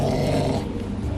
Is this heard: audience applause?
no